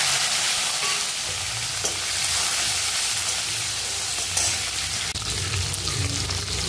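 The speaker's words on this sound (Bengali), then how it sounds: "আবারও ওই তেলে আমি শুকনো লঙ্কা, গোটা জিরে, কালো আর সাদা জিরে আর তেজপাতা দিয়ে দিলাম।" Dried red chillies, whole cumin, black and white cumin seeds and bay leaves crackle and sizzle in hot oil, a steady close frying hiss with occasional stirring clatter and small pops, no voices.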